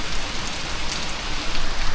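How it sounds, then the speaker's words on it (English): Steady rain falls on a surface in a continuous, even hiss with dense patter, fairly loud and close, with no voices. "we're finally getting some rain"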